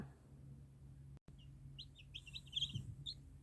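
Several high, thin peeps from Aboryhen breed chicks sound in quick succession, faint against a quiet low hum.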